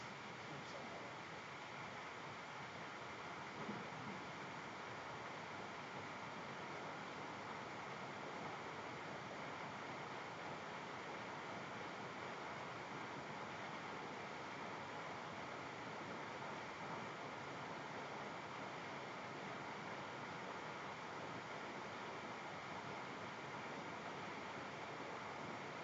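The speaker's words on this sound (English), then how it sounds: "You can listen to the fan spool up and sound like the ocean." A fan spooling up into a steady, loud broadband rush that sounds like ocean surf, holding constant throughout with no break.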